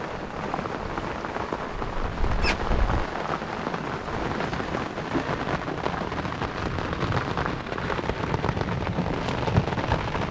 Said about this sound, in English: Bit of a rain squall.